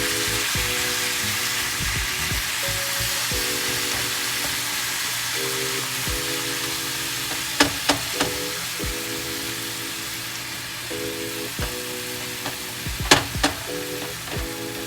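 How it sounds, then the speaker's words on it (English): Ground beef sizzles steadily in a pan while being crumbled, a constant hiss with a low hum beneath and a few sharp scraping taps of the utensil. "While your ground beef is cooking"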